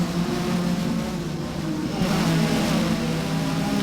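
Race car on the final lap of a race, its engine droning steadily and loudly throughout as the back end gets loose and the car is tapped and loses control, with a brief surge in intensity midway.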